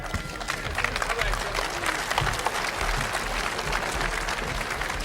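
Boxing crowd noise in the Theater of Performing Arts at the new Aladdin Hotel during a heavyweight fight, a dense continuous roar of murmuring and clapping with an announcer's voice talking over it.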